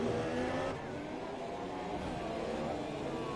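Racing cars run laps on the circuit at the Mexico Grand Prix, producing a continuous, blended engine drone with a slight dip in level early on and no voices.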